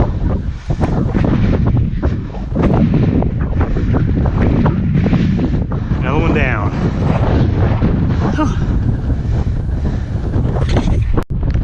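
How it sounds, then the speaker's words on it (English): Strong wind on the 2,177-foot summit of Granite Mountain in the Wichita Mountains buffets the microphone in heavy gusts while a person speaks briefly beneath the roar. "it's pretty windy up here on this summit"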